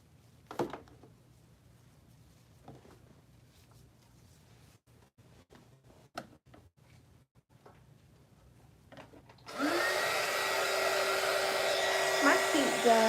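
A heat gun blows over epoxy resin, switching on after several quiet handling knocks and clicks, then roaring as a steady, loud, close hiss to the end.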